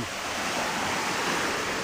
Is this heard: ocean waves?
yes